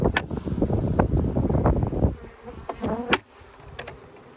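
Buzzing of honeybees flying around a hive in the open air, a steady drone with wind rumble and a few sharp knocks and clicks.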